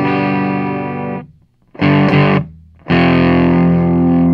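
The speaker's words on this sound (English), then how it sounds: "you can hear, there's a little bit of distortion, not a whole lot." An electric guitar plays through a two-transistor distortion pedal circuit built on a breadboard, mildly distorted, as three sustained chords ring out with brief gaps between them.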